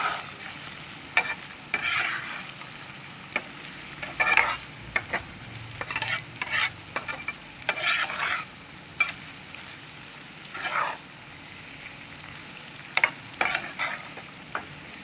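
Brinjal and tomato curry cooking in a pan over a low flame, village style, with a steady soft sizzle and scattered scrapes and stirring clatters, no voices.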